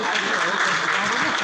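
An audience at an Indian film award ceremony claps loudly and steadily throughout, with a voice speaking over the applause.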